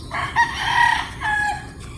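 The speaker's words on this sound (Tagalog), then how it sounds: "Marami po dito manok." A rooster crows loudly nearby, a drawn-out call followed by another, with many hens faintly in the background, at a gamecock farm in the Philippines.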